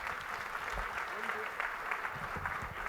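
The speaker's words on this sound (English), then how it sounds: "And give them a big round of applause." An audience at a business event honouring women leaders in Maharashtra claps in a soft, distant patter, with a voice speaking faintly over the applause.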